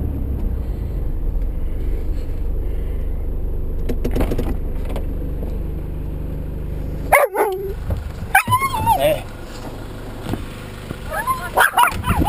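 A dog barks a few times over a steady car engine rumble, with some squeaky higher yips near the end, in Nerang.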